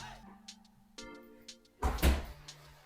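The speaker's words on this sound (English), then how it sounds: "That's my bag hitting the counter." A bag thumps onto a bathroom counter in a new home with dual vanities, one dull, fairly close impact after a stretch of quiet room sound and faint tones.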